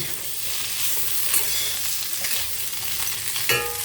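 Boiled potatoes sautéing in a little oil on a low flame, a continuous gentle sizzle with occasional stirring scrapes.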